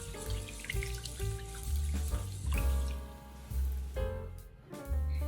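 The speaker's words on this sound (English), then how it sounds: "Rinse the rice until the water runs clear." Rice being rinsed under running water in a kitchen sink for Japanese fried rice, a steady faucet stream and splashing beneath louder background music.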